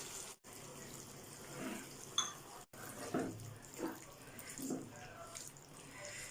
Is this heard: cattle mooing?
no